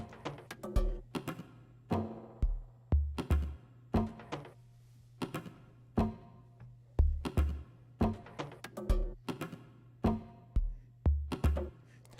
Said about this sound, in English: collectively, the percussion group sounds like this.